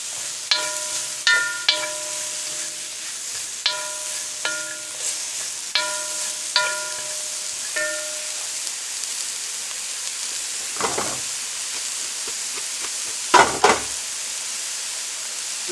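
Onions crackle in a hot pan for a Dan Dan chicken noodle stir-fry as they are stirred and broken up. A steady sizzle carries a series of ringing clinks from the utensil, then a couple of heavier scrapes.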